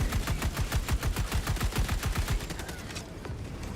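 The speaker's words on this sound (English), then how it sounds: "Using the anti-material rifle as a shotgun." Rapid, loud bursts of anti-materiel rifle fire in Helldivers 2, shots hammering out close together in a steady rhythm before tapering off near the end, with no talk over them.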